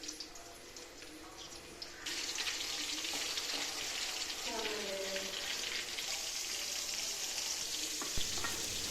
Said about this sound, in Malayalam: ഈ ചീനിച്ചട്ടിയിൽ അല്പം എണ്ണ ഒഴിച്ച് നമുക്കിത് വാർത്തെടുക്കാം